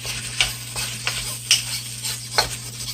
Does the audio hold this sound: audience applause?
no